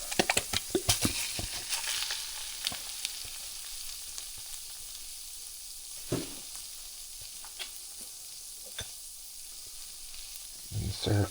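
Cream of mushroom soup goes into a one-pan dish of sizzling ground beef and pasta shells, with steady frying sizzle and scattered scraping, stirring clicks throughout.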